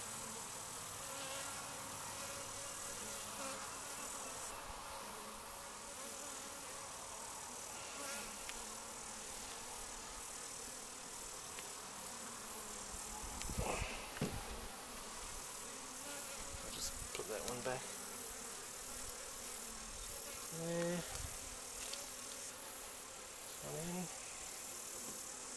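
Honeybees buzz steadily around an open hive box during a brood-box inspection, a dense continuous hum with occasional louder passes of individual bees close by.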